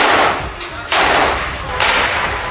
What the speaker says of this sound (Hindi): उन्होंने कई राउंड फायरिंग की।